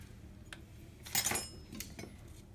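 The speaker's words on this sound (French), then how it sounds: "Et on coupe en petits morceaux." Onions are chopped into small pieces with a knife, giving a few light taps and clinks against a board or dish, including a brief louder scrape-like burst, all close and fairly quiet without talk.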